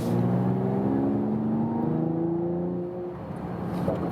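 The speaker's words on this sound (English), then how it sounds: "And the exhaust noise is a little louder." Estate car in Sport Plus mode accelerating, a strong low exhaust drone whose pitch climbs steadily and then eases off, heard from inside the cabin with no talking.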